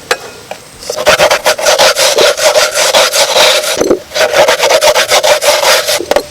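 Coconut flesh scraped by hand across a grater, a steady run of rapid rasping strokes, loud and close, with a brief pause midway and no talk.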